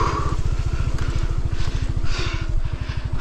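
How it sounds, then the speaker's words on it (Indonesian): Motorcycle engine idling in a steady, close, pulsing rumble after a ride through the Kalimantan forest, running evenly throughout with no speech. "gue dinginin mesin."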